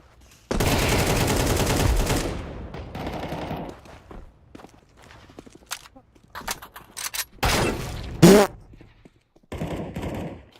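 Video game gunfire on a PC running Fedora 43 KDE, with a loud sustained burst of rapid automatic shots followed by scattered shorter bursts and single shots, separated by quiet gaps.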